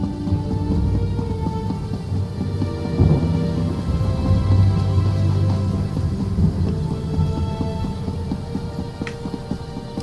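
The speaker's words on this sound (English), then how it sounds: "I love the sound of thunder" Steady rain with low rolling thunder in The Elder Scrolls Online, a continuous dense wash with a louder rumble swelling around the middle, no voices.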